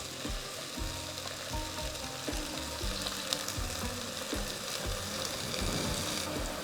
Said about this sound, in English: Now that the onions are soft, I'm adding a generous amount of oil.